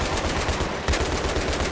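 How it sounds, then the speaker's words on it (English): Rapid automatic gunfire rattles on without pause in a Battlefield 3 firefight, loud, dense and close. "I don't know what I'm shooting at, but I'm shooting."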